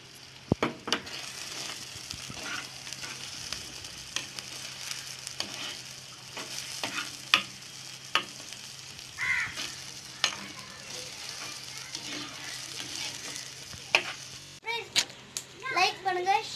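Green chilies sizzle and fry in a pan while being stirred, a steady crackling hiss broken by scraping stirs, with a voice and talk faintly in the background.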